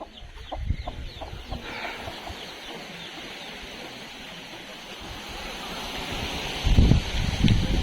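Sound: chicks and hens clucking while being fed grain

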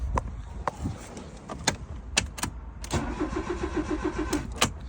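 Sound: Fiat Palio car engine cranking but failing to start

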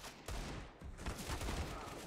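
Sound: gunshots in Counter-Strike: Global Offensive video game

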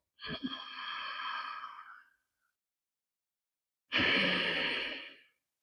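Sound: throat breathing sound during yogic breathing exercise

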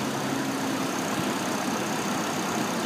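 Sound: 2007 Hummer H3 engine running

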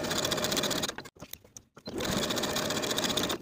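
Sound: sewing machine stitching blouse shoulder seams

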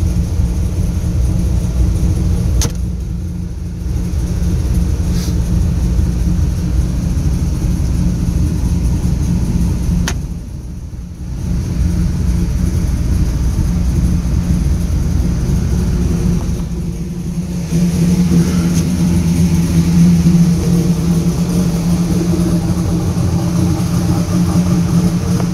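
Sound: 2002 WS6 engine idling while warming up after cold start

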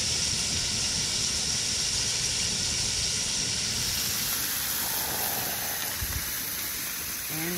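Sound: steaks sizzling in a skillet

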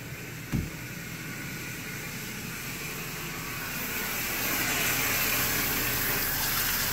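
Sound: water flowing through siphon hose

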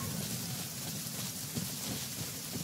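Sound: rain in video game Genshin Impact

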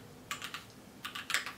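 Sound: typing on a clicky Keychron Q3 mechanical keyboard

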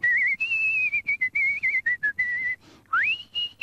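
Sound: imitated whistling of someone strolling in casually

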